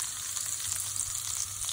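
Cumin seeds frying in hot oil, a steady bright sizzle and crackle heard close and alone.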